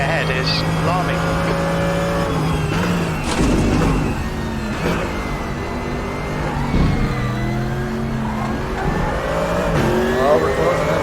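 A GT3 race car engine in the Raceroom racing game at Laguna Seca roars steadily, rising and falling through revs and gear shifts close up, while someone talks over it throughout.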